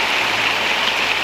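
Brook water flowing steadily past a canal near its breach at an aqueduct, heading into the River Marden: a loud, continuous broadband rush and gurgle with no breaks, close by.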